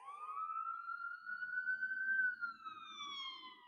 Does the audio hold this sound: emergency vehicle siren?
yes